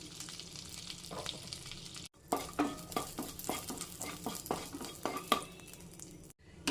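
Cashews fry in melted ghee and butter in a pan while making a mango dessert: a soft steady sizzle broken by repeated clinks and scrapes of a spoon stirring against the metal, with no talking.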